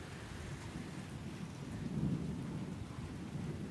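Low, rolling rumble of thunder swelling midway over a steady hiss of falling rain on a corn field, fairly faint and distant.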